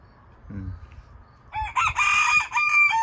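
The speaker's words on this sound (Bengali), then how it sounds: "দেখছেন এতটুক মোরগের কত জোরে ডাক দিচ্ছে" A small rooster lets out one loud, close, drawn-out crow that rises and holds, after a brief low murmur and shuffling.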